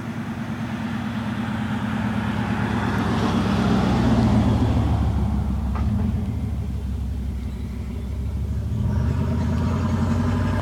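Cars passing by on a road during a thunderstorm in Dublin, Indiana, a steady loud rumble of traffic swelling and fading across the clip with no thunder clearly standing out.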